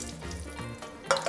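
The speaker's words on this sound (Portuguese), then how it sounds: "Como as ervilhas já estão previamente cozinhadas, vamos apenas retirar a sua água" Water drains out of cooked canned peas, a short close splashing trickle that swells into a brief louder gush near the end.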